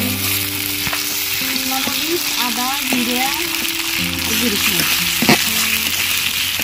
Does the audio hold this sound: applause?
no